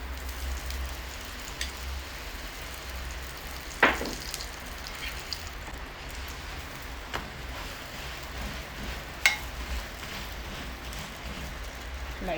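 Chapati sizzles steadily in oil in a pan, a constant crackling hiss broken by a few sharp clicks and taps of a utensil.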